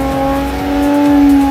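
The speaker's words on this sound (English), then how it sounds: "As you can hear, like the RPMs are kind of staying down low when I'm barely moving, and you can tell like it's kind of struggling to do it" A car engine labors at low RPM in third gear while attempting a burnout, a steady droning tone holding low and straining with little rise in pitch, loud and close throughout.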